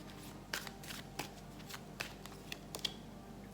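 Moon oracle cards are shuffled and handled close up, giving quiet, irregular papery flicks and snaps with soft rustling between them.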